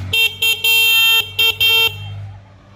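Horn on an electric handicap tricycle honks in several short and long toots, a bright buzzing tone, loud and close, followed by a fading hum.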